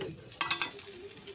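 Egg omelette frying in a pan: a soft sizzle with three quick bright clicks near the middle, fairly quiet and close, with no clear speech.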